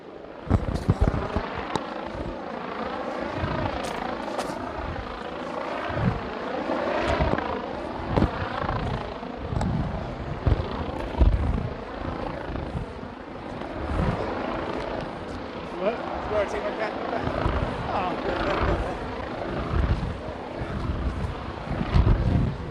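A police helicopter hovers overhead during a protest clearance at Cal Anderson Park in Seattle, its rotors throbbing steadily. The constant chop sits under scattered street and crowd noise.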